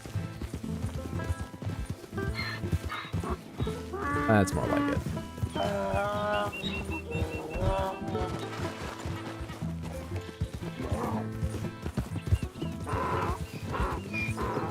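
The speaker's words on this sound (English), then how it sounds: "Can I go at a trot? Can I go at a gallop? A canter?" Horse hooves clip-clopping at a steady trot in the video game Red Dead Redemption 2, with a whinny rising partway through, all heard under continuous talking.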